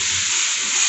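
Water poured into a pan of frying ground spices with salt, turmeric, cumin, coriander, garam masala and sugar sets off a loud, steady hiss of sizzling steam, close and unbroken.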